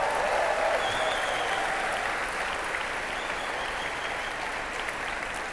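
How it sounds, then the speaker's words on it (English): An evening gathering's audience applauds the sign language interpreters with steady, dense clapping that stays level throughout, heard at a distance. "let's give a round of applause for the signers for the deaf"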